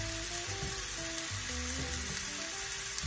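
Blackberries simmering in a pan over medium heat, their juices releasing with a steady, low sizzle and soft bubbling that runs continuously and fairly quietly, with no voices.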